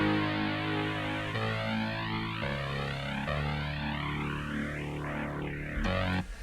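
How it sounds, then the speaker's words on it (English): A Roland JX8P synthesizer plays a bass part, deep sustained notes shifting pitch every second or so under a bright, swirling pad texture in a studio mix; continuous and moderately loud, with no voices. "Right here I've got a JX8P doing a new bass part."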